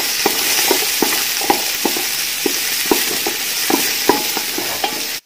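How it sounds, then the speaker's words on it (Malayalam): Two medium onions with spices sauté in a pan for madghut biryani, a loud steady sizzle of frying running throughout, with regular scrapes and taps of a stirring spoon. "ഇനി ഇതൊന്ന് എല്ലാം കൂടെ ഒന്ന് ചെറിയ രീതിയിൽ ഒന്ന് വഴറ്റിയെടുക്കാം."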